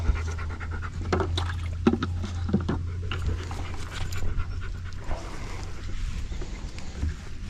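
A pet dog pants steadily near a backyard pond on a farm, its quick breathing continuous over a low hum of wind and outdoor noise.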